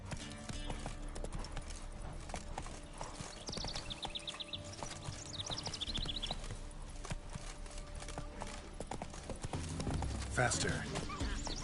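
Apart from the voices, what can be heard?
horse Roach galloping and neighing in video game Witcher 3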